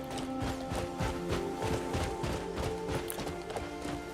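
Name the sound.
horse hooves while riding a horse in the video game Crimson Desert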